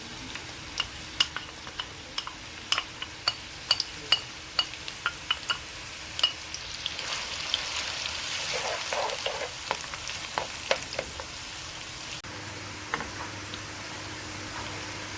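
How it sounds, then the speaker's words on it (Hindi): Onions sizzle and crackle in a cup of hot oil for a spiced gosht curry, with cinnamon already in the pan; steady frying hiss carries sharp ticks and spoon scrapes throughout, louder and denser in the middle stretch. "तेल गरम हो गया, अब इसमें हम डालेंगे प्याज।"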